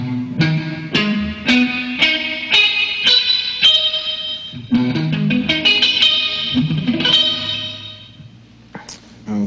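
An effected electric hard rock guitar plays a minor arpeggio position climbing from the scale's third degree up to a high fifth. Crisp single picked notes fall in a steady flowing rhythm and ring out with echo, then the run trails off near the end.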